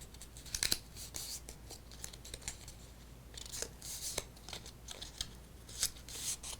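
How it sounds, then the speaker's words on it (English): Scored paper pieces from a craft kit are folded by hand, giving quiet, crisp creasing and crackling sounds in irregular bursts, close up and with no speech. "once each of those is scored, we want to go ahead and fold each one"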